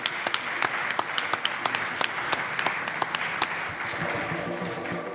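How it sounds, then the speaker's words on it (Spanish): An indoor audience at a mystery-themed conference in Zamora bursts into steady applause, dense rapid clapping that holds for several seconds and eases slightly toward the end. "Un aplauso, por favor."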